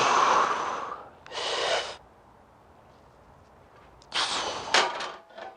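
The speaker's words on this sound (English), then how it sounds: "I can exhale, short puff" Short, sharp exhaled puffs of breath from a lifter bracing under a bench press bar, a few separate bursts with quiet pauses between them, close and alone.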